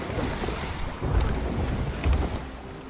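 A sailing ship under way in the Sea of Thieves pirate game: a continuous rush of wind and sea with low rumbling swells surging twice, with no talk.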